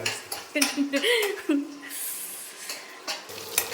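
A ladle scrapes and clinks in a pan as it stirs frying onions, making a few uneven, close strokes over a faint sizzle. Someone talks throughout.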